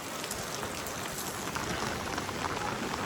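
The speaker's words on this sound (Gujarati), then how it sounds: "હા વરસાદ ફૂલ આવે બાકી" Heavy rain pours down steadily on Mall Road in Shimla, a dense, continuous hiss of drops on surfaces with no talking.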